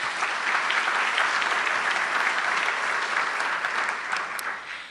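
An audience at a university general faculty meeting claps in sustained, dense applause, loud and even throughout before tapering slightly at the end.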